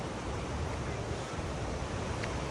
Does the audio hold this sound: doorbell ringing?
no